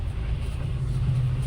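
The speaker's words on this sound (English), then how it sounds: "I'm driving down the alley right now" A car rolling down an alley after a storm, heard from inside as a steady low engine and road rumble, loud and continuous, with no talk.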